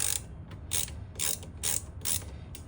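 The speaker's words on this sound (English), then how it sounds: "going to loosen these two small bolts. These are the pins that hold your brake pads in." A 1/4 inch 12-point socket ratchet turns the caliper pin bolts on the rear brakes of a 2007 Harley Electra Glide, giving five evenly spaced, crisp bursts of ratcheting clicks close up, with no talking.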